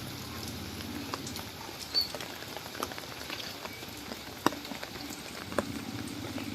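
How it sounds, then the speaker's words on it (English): Rain falls steadily over a small flood-prone community in the Philippines during the rainy season, a soft continuous patter with occasional louder drips close by, alone without voices. "Nobody outside right now because it's raining."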